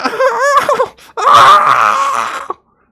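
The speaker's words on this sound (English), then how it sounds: "what you hear is the sound of what you think is a baboon dying" A loud, distorted animal scream: a wavering howl that breaks off, then a long harsh shriek that suddenly cuts out.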